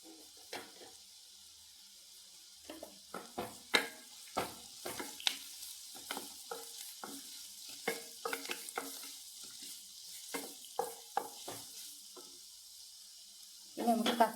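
Carrot and coriander leaves are stirred and fried in a pan for rava kichadi, giving a soft continuous sizzle broken by many sharp scraping stirs of the spoon, close and fairly quiet, with a louder clatter at the end.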